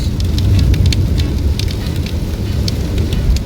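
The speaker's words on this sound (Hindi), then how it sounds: "बहुत तेज हो रही है बारिश।" Heavy rain drumming on a car while driving, a dense steady patter and hiss of drops over a low road rumble, with sharper individual hits scattered throughout.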